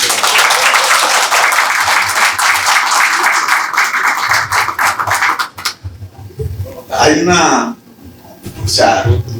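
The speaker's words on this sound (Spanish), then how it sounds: "Muy bien, pero un aplauso" Audience at a philosophy olympiad applauds Professor Alberto, loud dense clapping for about five seconds that stops abruptly, followed by someone speaking.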